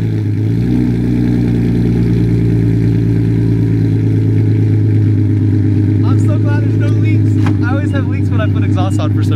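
An Infiniti G37 fitted with a G35 Tomei exhaust and ISR long tube headers idles with a loud, deep, steady rumble close by, and a voice speaks over it in the final seconds.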